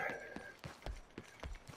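Video game horse hooves clop on the ground in a steady rhythm, about seven thuds at a trotting pace, fairly quiet and close.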